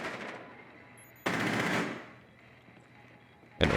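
Bursts of automatic gunfire in Rainbow Six Siege, one loud rapid burst lasting under a second and another sharp burst starting at the end, with quieter ambient game noise between them.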